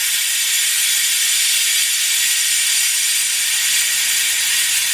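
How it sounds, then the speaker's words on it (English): A Harbor Freight air-powered one-man brake bleeder hisses steadily and loudly on a bleeder valve, drawing brake fluid and air bubbles through its hose in one unbroken, close rush with no talk. "we're going to engage the air and loosen the valve and let some fluid start"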